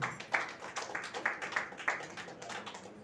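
Scattered claps from an audience at a political gathering, a few sharp hand strikes at irregular intervals rather than full applause, fairly close, with a faint background murmur.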